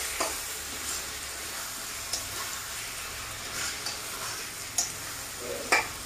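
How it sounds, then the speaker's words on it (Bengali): Tomatoes frying in a pan for a Bengali-style prawn curry, a soft, steady sizzle broken by occasional spoon taps and scrapes on the pan, close and fairly quiet. "এবার টমেটোটাকে একটু ভালো করে ভেজে নেবো ততক্ষণ পর্যন্ত যতক্ষণ না জলটা ছেড়ে দেয়"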